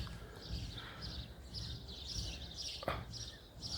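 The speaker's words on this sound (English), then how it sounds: "And you can hear the sparrows again." Repeated bright sparrow chirps in quick bursts over a soft outdoor hum, with a brief sharp click near the end; the calls sound fairly close.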